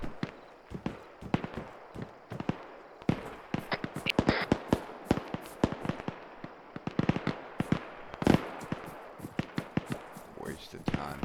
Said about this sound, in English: Swan, you got a machine gun behind you